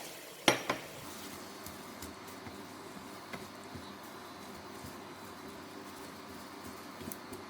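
Watercress stir-frying with oyster sauce and goji berries in a pan: steady soft sizzle throughout, with a sharp clatter of utensil against the pan near the start and a few lighter scrapes later.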